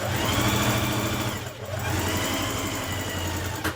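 A sewing machine stitching a garment sleeve seam down to the bottom, a rapid mechanical whirring hum close by that briefly pauses midway and then resumes, with no voices.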